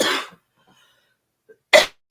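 A single close, sharp cough bursts out alone after a long quiet pause, followed by the start of a second one.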